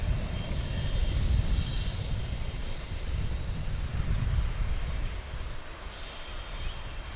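American Airlines flight 579, an Airbus A319 arriving from Chihuahua, Mexico, at Dallas Fort Worth airport, makes a steady, fairly loud jet engine roar that holds for several seconds and eases slightly near the end, with no talk.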